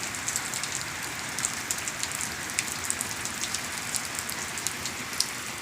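Steady rain falls on surfaces in the village of Rajsthali, a constant close patter with scattered louder drips.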